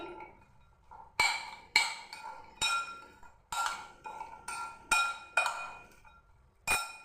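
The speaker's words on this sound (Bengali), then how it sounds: "ভালো করে চামচে করে আগে মেখে নেব, খুব সুন্দর করে মেখে নিচ্ছি।" A spoon knocks and clinks against a bowl while mixing jhal muri of puffed rice with raw chickpeas and mustard oil, about ten separate sharp taps spaced irregularly and heard up close in a quiet room.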